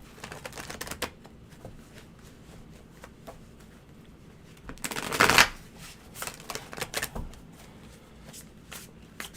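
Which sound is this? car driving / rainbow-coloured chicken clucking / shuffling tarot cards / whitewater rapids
shuffling tarot cards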